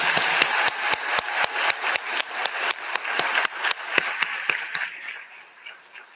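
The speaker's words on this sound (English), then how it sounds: "join me, guys, again in announcing our 374 incoming students with a round of applause" Applause at a fall convocation and white coat ceremony welcoming incoming students, with sharp, scattered claps from a crowd, steady and fairly near, gradually thinning and fading out toward the end.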